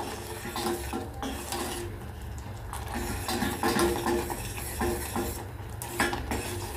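A spoon keeps stirring thickening palappam batter in a pan, scraping and knocking against the metal in a continuous, close, busy rhythm with no voices.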